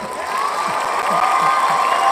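A cheering squad cheers and applauds together in a steady, continuous burst of crowd noise, moderately loud and close, with no talking over it.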